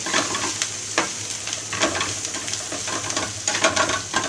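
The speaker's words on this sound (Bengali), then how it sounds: "এই যে আমরা এভাবে মরিচ পেঁয়াজ বেশি করে দিয়ে এভাবে সব মিলিয়ে ফেলি" Chillies and onions stirred in a hot pan, a continuous sizzle broken by repeated scraping strokes of a spatula at an even rhythm, close and fairly loud with no talking.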